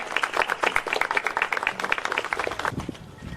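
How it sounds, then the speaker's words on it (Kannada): An audience at a government employees' sports meet claps loudly in a welcome, a busy patter of many hands with distinct sharp claps that tapers off near the end. "ಜೋರಾದ ಚಪ್ಪಾಳೆ"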